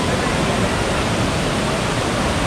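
Chet Sao Noi waterfall near the Muak Lek reservoir pours in a loud, steady, unbroken rush of flowing water that stays close and even throughout.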